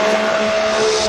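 A Formula Drift car's exhaust roars loud and sustained as the car slides sideways through the outside zone of the course, with a steady engine tone mixed with tire noise.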